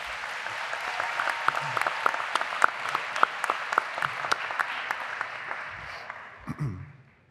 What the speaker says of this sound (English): please show them your gratitude with a round of applause as well